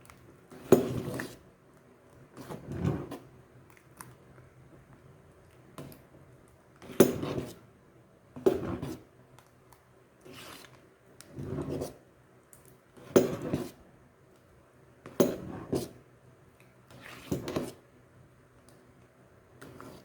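Ginataang malagkit with jackfruit, banana and sweet potato being stirred in a pot, a utensil scraping and knocking against the metal in separate bursts every couple of seconds, close and fairly quiet.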